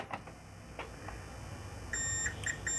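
A multimeter in continuity mode beeps while probing components on an HP 640 G2 laptop motherboard with a no-power fault: several short, close, steady tones near the end, the first one sustained and the rest clipped, with no talking.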